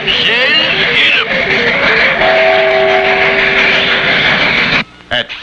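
Cartoon train derailing and running off the track: a loud, rushing rumble with whistle-like tones that holds steady for several seconds, then cuts off abruptly, followed by a couple of short knocks. Voices are heard along with it.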